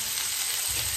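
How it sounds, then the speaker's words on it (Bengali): Onions and tomatoes fry together in a pan, giving a steady, close sizzle and hiss that runs unbroken for about a second with no voices. "এখানে আমি পেঁয়াজ আর টমেটো কষিয়ে নিচ্ছি"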